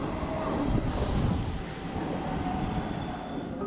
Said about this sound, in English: let's hop the metro and head south to the Piramide